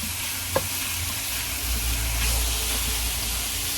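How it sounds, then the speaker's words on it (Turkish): Food sizzles and hisses steadily in a hot pot, with an occasional clink of a utensil stirring, close and constant. "Bunları biraz tavada kavuracağız. tencerede."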